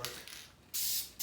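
Aerosol or spray can used during a 1986 Ford 300 inline-six engine rebuild, two short hissing bursts separated by a brief pause, near and fairly loud, with a third starting at the end.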